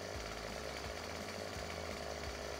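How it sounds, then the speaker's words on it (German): A chainsaw cuts steadily into a tree trunk at a steep angle while felling, its engine loud and continuous throughout with small dips in pitch as the chain bites the wood. "Um das zu vermeiden, setzen wir jetzt die Säge recht schräg an."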